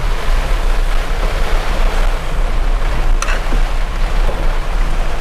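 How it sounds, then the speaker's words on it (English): Sea waves at the Udupi sea walk beach in Karnataka wash in with a steady, close surf roar, mixed with wind buffeting the microphone. No one speaks. "This is Udupi Sea walk."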